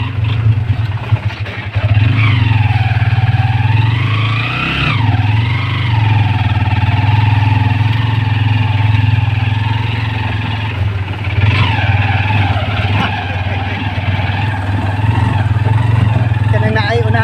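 A motorized tricycle engine revs and drones close by on a road trip to Sto Tomas, Davao del Norte, with a steady low hum and rising, falling pitch sweeps, while people talk over it.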